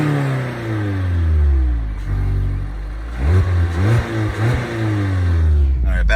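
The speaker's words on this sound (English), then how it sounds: "Let's see if you can hear the exhaust." A 2022 Mazda MX-5 Miata Club exhaust revs repeatedly up close, engine pitch climbing and falling in several blips, with a sharp burst of clatter near the end.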